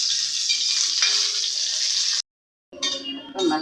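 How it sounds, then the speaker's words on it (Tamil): Asafoetida and red chillies frying in oil for mango pickle, with a loud steady hiss and crackle that cuts out briefly and then resumes in uneven bursts, and no talking. "பெருங்காயம் பொரிச்சுக்கிட்டு அதில் மிளகாயும் இவ்வளோ மிளகாய் எடுத்து வறுத்துக்கிறோம்"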